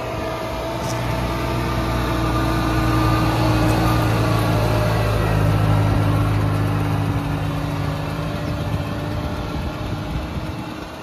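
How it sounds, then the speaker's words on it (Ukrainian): A tractor pulling a 14-metre field sprayer works across a rapeseed stubble field, its engine droning steadily with a low hum and mid-range tones, loud and continuous throughout with no talk. "як працює сам трактор з оприскувачем"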